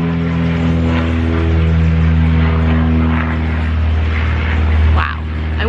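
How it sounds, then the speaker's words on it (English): An airplane drones overhead as a low, steady engine rumble beneath a person talking, fading slightly toward the end. "now there's an airplane."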